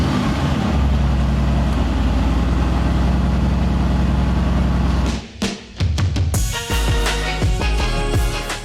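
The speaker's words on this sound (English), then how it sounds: "This thing is quite possibly the best sounding V8." A Mercedes AMG GTR twin-turbo V8 rumbles loud and close for about five seconds, then cuts into sharp revving bursts and crackles before settling back into a deep roar.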